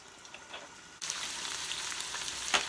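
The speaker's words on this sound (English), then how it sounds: "I'm just going to let this meat continue to brown" Meat browning in a pan for cabbage stew with dumplings, heard as a quiet background fizz that suddenly jumps to a steady, louder sizzle partway through, with a few small pops near the end.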